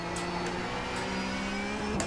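A Porsche Cup race car engine drones steadily at Zandvoort in a racing video game, holding a constant mid-pitched tone with brief gear-shift blips, no voices over it.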